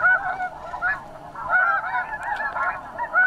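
Snow geese honk continuously in a dense, overlapping flock chorus, steady and fairly loud, heard outdoors on a hunt with no voices over the calls.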